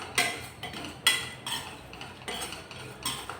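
A pinch of fenugreek seeds roasting in a pan, heard as repeated close clinks and scrapes of a spoon against metal at an uneven rhythm, with only faint frying beneath.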